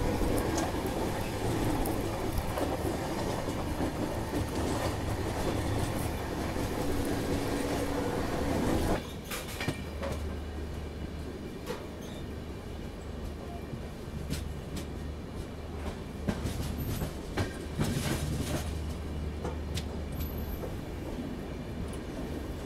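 A diesel train rolls along rails on the Miraj to Bangalore route near Dharwad railway station, with a loud steady rumble that drops to a quieter running noise partway through and faint wheel clatter throughout.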